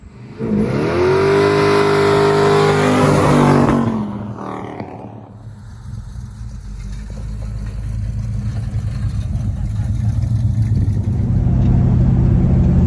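A clean Pontiac GTO engine revs hard and loud, then drops away and builds again as the car drives off and accelerates, the engine roar carrying through to the end with no talking.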